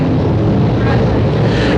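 Late model race cars on a dirt track, a dense, steady roar of engines sustained throughout with heavy low rumble and wind-like noise, loud and continuous.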